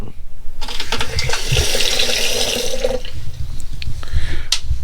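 Water from a hooked-up hose running into a new camper at a campsite, a steady close rushing flow with a few small knocks and a brief voice underneath.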